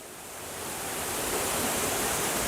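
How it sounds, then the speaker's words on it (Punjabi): Water bursts up under pressure from a pipe in a hillside village, a dense hissing roar that builds quickly during the first second and then holds steady and close, with no voices. "ਪਾਣੀ ਦਾ ਪ੍ਰੈਸ਼ਰ ਦੇਖੋ ਉੱਪਰ ਤੇ ਆ ਰਿਹਾ"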